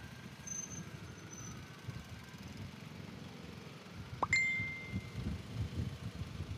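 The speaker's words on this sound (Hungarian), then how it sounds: "Telefonomon nem kapcsoltam ki a Bluetooth-t, azért vannak néha a pittyögések." A phone's Bluetooth notification gives a short, clear ding partway through, heard faintly against the low rumble of a motorcycle convoy moving slowly along during a children's motorcycle-ride event at the Pető Institute.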